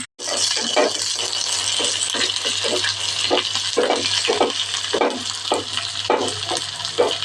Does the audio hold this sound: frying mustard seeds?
yes